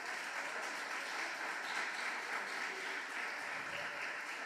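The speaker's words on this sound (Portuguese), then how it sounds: "Você pode aplaudir o Senhor Jesus pela igreja que está aberta?" A church congregation claps together, continuous and fairly even, the applause filling the room at a moderate distance with no voices over it.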